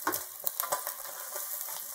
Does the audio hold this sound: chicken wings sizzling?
yes